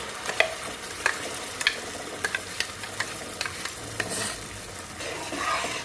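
A red chili and coconut paste is stirred into onion and garlic frying in a pan for a mackerel curry. A soft, steady sizzle runs under a series of sharp spoon scrapes and clicks, fairly quiet and close, with no voices.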